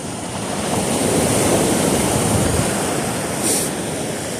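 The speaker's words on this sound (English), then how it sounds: "See these waves rush in, and it's not always like this." Ocean waves rush onto a beach in a steady broadband roar, swelling around the middle and easing toward the end, with light wind noise and no voices.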